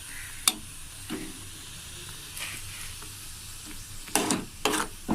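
Homemade tomato ketchup cooking with added spices, a soft continuous bubbling sizzle with occasional stirring scrapes and a few louder spoon clatters near the end, close and without talk.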